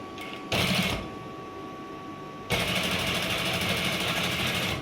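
A sewing machine stitches fabric for a garment, running in a brief close burst, pausing, then running again in a longer steady whirring stretch.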